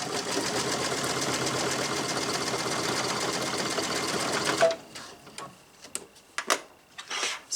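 A sewing machine runs in a fast, even stitching burst while finishing the corner of a yard flag, then stops abruptly, leaving a few faint handling clicks and rustles.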